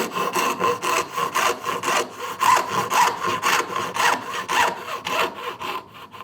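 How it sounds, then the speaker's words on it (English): A hand saw cutting dovetails in wood, with steady rhythmic back-and-forth strokes, close and fairly loud, each stroke a raspy burst in an even cadence, with no talking. "Love cutting dovetails"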